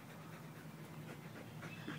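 A dog pants steadily outdoors on a warm day in the shade, the quick breaths soft and continuous against a low background hum, with no one talking.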